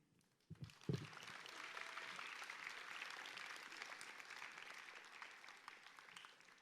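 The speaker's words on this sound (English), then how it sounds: "let's give one last round of applause to all our speeches and performances we've had tonight" Audience at a moving-up ceremony gives a final round of applause for the evening's speeches and performances, a few early claps swelling into sustained, even crowd clapping, fairly distant and soft.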